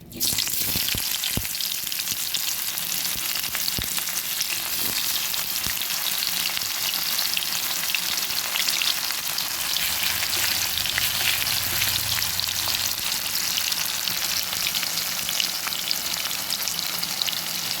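Chopped onion hits hot oil in a pan for a chicken curry with potatoes, a loud, continuous bright sizzle and hiss with a few stirring clinks near the start, steady and close with no talk.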